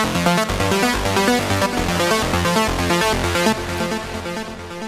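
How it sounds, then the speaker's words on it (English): A fast, steady trance synth arpeggio ripples through rapid repeating notes, dense and bright, playing continuously without any voices. "Some trance arpeggio there."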